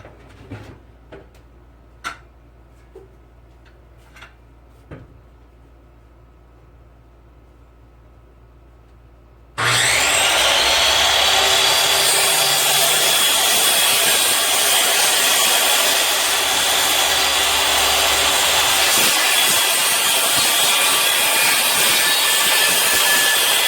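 A loud power saw cuts steadily through wood while building a custom TV mount in a tiny shed-to-house home, a sustained roaring whine after a few quiet clicks and taps.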